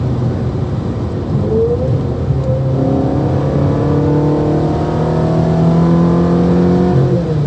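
A Ferrari 355 or 360 sports car engine revs steadily upward, exhaust note rising in pitch across several seconds, loud and close with no talk.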